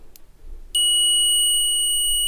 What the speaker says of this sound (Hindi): सबसे पहले इसमें बजर ही चेक करूँगा